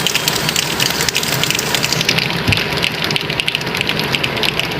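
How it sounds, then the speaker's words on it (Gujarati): Steady rain pours down in a dense, even hiss that fills the whole stretch, loud and close, with no voices over it. "વરસાદ બહુ હેરાન કરે છે"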